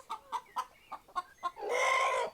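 Chickens in a coop give a run of six short, evenly spaced clucks close by, then break into a louder drawn-out squawk at the end.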